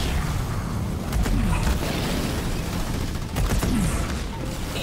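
Gunfire and artillery pound an attacked base in Halo Wars 2, a steady rattle of shots broken by heavier booming impacts, loud and continuous throughout.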